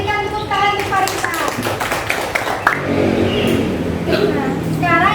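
Schoolchildren in a classroom clap for a classmate in a short, lively patter that fades as a voice speaks over it and children chatter.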